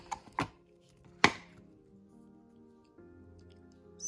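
A cooled car freshie being popped out of its mold, giving a few sharp close snaps and cracks early on, the loudest near the middle, followed by quiet handling noise.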